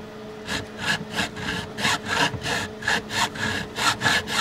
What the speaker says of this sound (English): then we bring out my favorite file, because there'll be now even sharper edges because we're going to take the ends off the frets